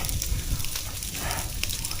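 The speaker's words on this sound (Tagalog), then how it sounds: "napakabilis kumalat po ng apoy." A fast-spreading outdoor fire crackles and roars, a dense, continuous rush with scattered sharp pops, loud and close.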